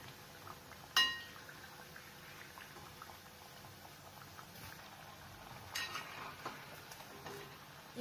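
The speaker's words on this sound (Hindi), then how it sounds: "और इसे फ्राई करें। इससे ये क्रिस्पी बनेंगी।" Whole wheat flour mathri dough frying in oil over a low flame gives a steady bubbling sizzle that carries on throughout, with a sharp clink near the start.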